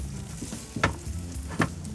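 An omelette sizzles softly in a pan just after the flip, a steady close fry with two brief scraping knocks about a second apart.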